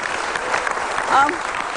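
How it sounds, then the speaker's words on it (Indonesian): Applause fills a live television talk show studio, a steady wash of clapping with a voice speaking over it. "kita kasih tepuk tangan dong Mas Valentino."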